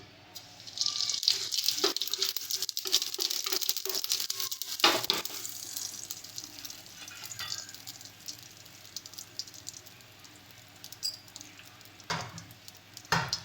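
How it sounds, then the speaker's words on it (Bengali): Cumin seeds dropped into hot oil in a heated wok, setting off a bright, crackling sizzle that swells at the start and then settles into a softer steady hiss with a few sharp pops, up close. "এবার এর মধ্যে আমরা জিরে ফোড়ন দিয়ে দিচ্ছি"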